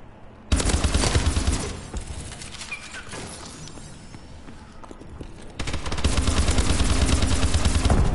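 Rapid bursts of turret gunfire in a video game crackle in loud sustained volleys, easing to a quieter patter mid-way before a heavy stream of fire resumes and holds to the end.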